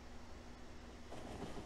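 Train pulling in within the Factorio video game, a steady rumbling rail noise with a low hum that grows fuller and louder toward the end, heard alone without talk.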